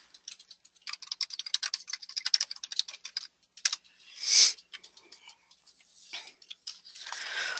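Typing on a computer keyboard while entering a title into a text field, quick irregular bursts of close key clicks with brief pauses and a louder clack near the middle.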